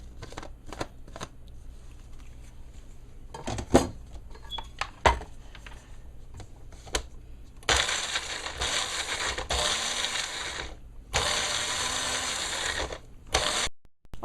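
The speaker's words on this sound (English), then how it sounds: "I'm going to chop it up in here to put in the pot" Seasoning vegetables being chopped for beans and rice, giving scattered knife taps against a board, then longer stretches of scraping and rough cutting, close and fairly loud, with no talking.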